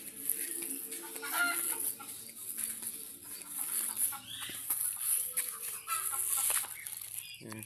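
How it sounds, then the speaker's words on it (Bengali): A hen clucks in an outdoor farmyard with ducks nearby, short clucks scattered across a steady background of other birds and rural ambience, moderately close and continuous without talk. "একটা মুরগি পকাচ্ছে,"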